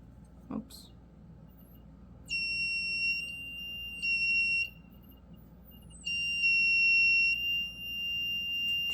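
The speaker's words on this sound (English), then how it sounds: "these two need to be in direct contact for the buzzer to work" A high-pitched electronic buzzer from a door security alarm circuit sounds in three bursts, starting and stopping abruptly, with a low hum and a brief knock underneath.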